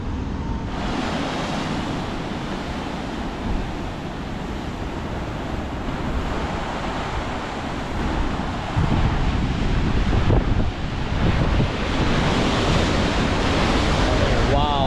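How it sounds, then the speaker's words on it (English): Big ocean waves crash against a rocky headland in Sydney, a loud, continuous surging roar with wind buffeting the microphone and a heavier swell breaking near the end. "the waves are really big. Like, wow, look at them."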